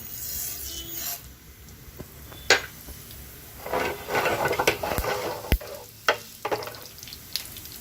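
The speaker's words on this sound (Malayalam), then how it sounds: "ഞാൻ 2 ടേബിൾ സ്പൂൺ ഞാൻ കടുകിടുവാണേ" Mustard seeds splutter in hot oil while sambar is being made: an irregular crackling fry with scattered sharp pops and some scraping stir sounds, close by, with no voices.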